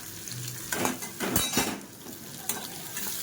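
Bitter gourd pieces frying in fully heated oil, with a steady soft sizzle under repeated scrapes and clinks of a spoon stirring against the pan, close by and moderately quiet.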